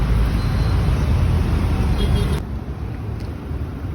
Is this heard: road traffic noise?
yes